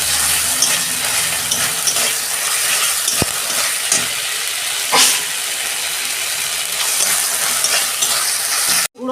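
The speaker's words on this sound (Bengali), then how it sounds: "টমেটো কেটে রেখেছিলাম, দিয়ে দিচ্ছি।" Chopped tomatoes drop into a hot pan for a Bengali pomfret fish curry and sizzle loudly and steadily, with a sharp knock and a few stirring scrapes along the way, no voices.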